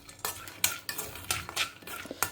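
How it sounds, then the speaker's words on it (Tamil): Peanuts being dry-roasted in a pan while a spoon stirs them, giving repeated close scraping and rattling strokes in an uneven rhythm, with no talking. "அதுக்கு வந்து நல்ல ஒரு பிடி வேர்க்கடலையை வறுத்துக்கிறேன்."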